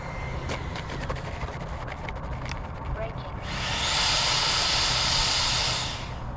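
An FMS F-86 Sabre 80mm EDF model jet landing on a runway, its ducted-fan whine swelling into a loud, steady hiss partway through, then holding as the plane slows, with scattered clicks and outdoor noise beforehand.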